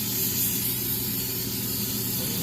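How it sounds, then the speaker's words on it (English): Coconut oil cooking spray hisses steadily into a pan for a couple of seconds, a close, even burst of aerosol noise with no talking. "Spray with the coconut."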